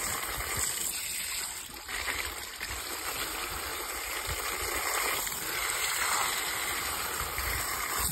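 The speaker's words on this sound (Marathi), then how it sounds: "मागच्या साईडला जेव्हा मी पाणी मारतो रेडिएटरला" A hose sprays water steadily against the back of a dirty tractor radiator during cleaning, making a continuous close hiss and splatter with black runoff trickling out the front, with no talk.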